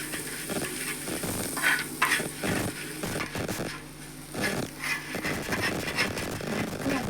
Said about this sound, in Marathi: मी वाटेनेच ही चटणी वाटून घेते